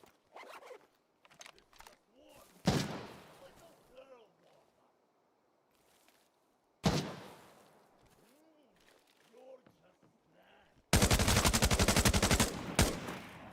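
Video game shootout with separated gunshots, a few single loud cracks followed near the end by a sharp, dense burst of rapid automatic fire, with quiet stretches and some speech between.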